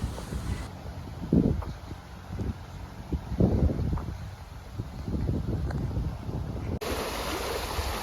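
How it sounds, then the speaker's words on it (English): Wind gusts outdoors beside canal locks on the Wilmcote flight, a steady buffeting rush against the microphone with stronger low surges and no talking. "The wind's picked up again."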